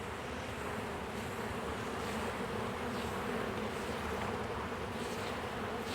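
Dense, steady swarm of honeybees buzzing close up as they are swept off a hive frame with a small brush during queen rearing, a continuous droning hum with no talk.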